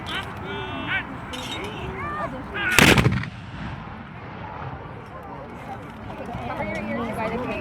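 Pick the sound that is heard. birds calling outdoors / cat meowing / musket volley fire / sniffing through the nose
musket volley fire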